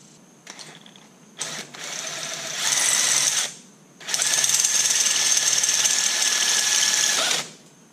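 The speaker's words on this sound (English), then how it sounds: "now we can go ahead and drill the other side." A power drill starts with a few short revs, then grinds through a metal boost controller bracket on a turbo Miata in two sustained bursts separated by a brief pause, loud and close with no talking.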